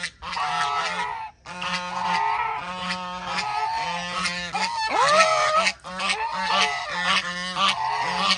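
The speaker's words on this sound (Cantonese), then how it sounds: "好耐冇聽過呢啲聲啊！ 大家呢啲真正嘅鵝啊，走地鵝。" Free-range geese honk loudly and repeatedly at close range, a dense chorus of harsh nasal calls with short pauses between bursts, heard alone without talk.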